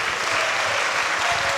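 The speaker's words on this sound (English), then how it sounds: "So please give him a big applause" An audience at a devotional lecture applauds in a dense, steady patter of many hands clapping together, loud and sustained across the whole stretch.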